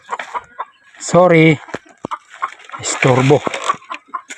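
Hens clucking in a backyard flock kept with water in hot sun, two loud close squawking cluck bursts between quieter clucks, with people talking nearby.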